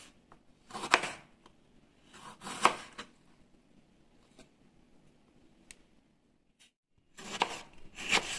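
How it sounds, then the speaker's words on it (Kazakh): A knife chopping tomatoes finely on a cutting board, sounding as a few separate bursts of quick, close taps with quiet pauses between them. "қызанағымызды тазалап тураймыз. Оны да дәл ортасынан екіге бөліп, ұсақтап, жіңішке етіп турап шығамыз"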